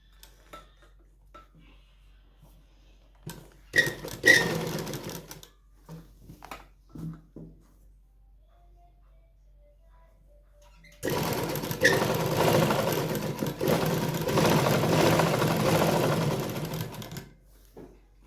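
A sewing machine stitches cord piping onto fabric in a steady, fast, rattling run lasting several seconds, preceded by scattered clicks and handling sounds.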